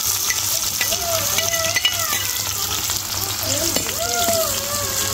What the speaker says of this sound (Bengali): এটা নাড়াচাড়া দিই। তেলের মধ্যে বাগারটা ছাড়বো পুরা।